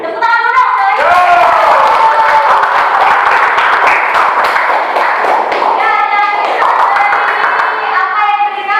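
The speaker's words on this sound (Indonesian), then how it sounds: "Tepuk tangan dulu dong." A class of children claps together in brisk, rapid applause lasting several seconds, mixed with excited young voices chattering and cheering over it.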